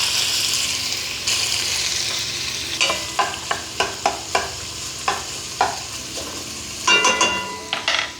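Sausage fries in oil in a pan with a steady bright sizzle, punctuated by a series of sharp utensil taps and stirring clinks; close and fairly loud.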